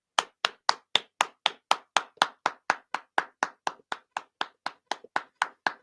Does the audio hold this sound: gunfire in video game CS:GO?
no